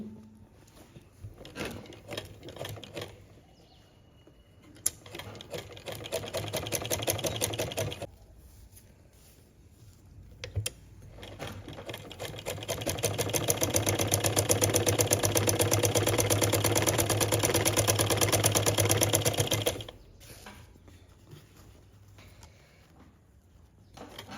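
Sewing machine stitching a piping finishing strip, running in loud steady bursts with a rapid mechanical rhythm, a short run then a long sustained stretch, with quiet pauses between.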